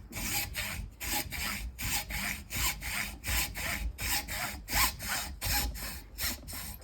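A hacksaw cuts through a piece held in a vise during a Toyota Hilux speaker upgrade, producing loud, close, rasping back-and-forth strokes in a steady rhythm of roughly two per second, with no speech.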